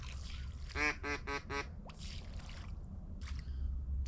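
A wild duck circling overhead during a Texas duck hunt gives a quick run of four nasal quacks at mid distance, followed by faint rustles, with steady wind noise throughout.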